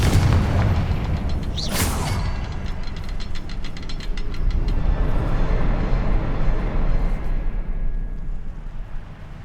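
Spell explosions from Bombarda and Confringo in the Hogwarts Legacy video game: a heavy booming blast early on, then a sustained rumbling roar with crackling debris that fills the whole stretch.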